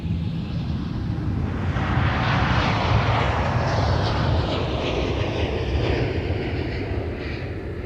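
Heavy jet airliner with a full load taking off from MSP airport bound for Paris, a broad roar that swells and then slowly fades as it climbs away, heard from a distance.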